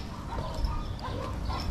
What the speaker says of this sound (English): Them dogs sound like they going at each other.